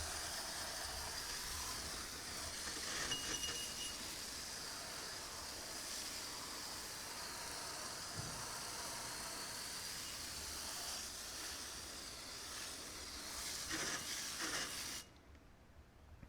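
Water sprays steadily in a continuous broadband hiss as an item is rinsed off after being cleaned with SuperClean, holding an even level for about fifteen seconds before cutting off abruptly.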